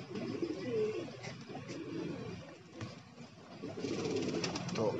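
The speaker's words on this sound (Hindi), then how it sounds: "दोस्तों एक कबूतर वहां जाके बैठा ही है" Pigeons cooing in a rooftop loft during summer heat, soft repeated coos close by and continuing through the whole stretch, with faint outdoor background noise underneath.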